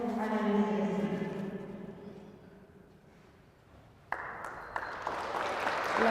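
Audience applause at a Eucharist talk, entering abruptly after a stretch of voice and quiet, then continuing as dense, steady clapping near the end.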